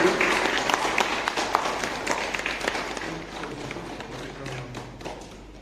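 Audience applause at an SGS Tekniks New Year celebration welcomes a second-place award winner, with dense clapping and scattered thuds that fade gradually over several seconds, and a voice briefly audible near the end.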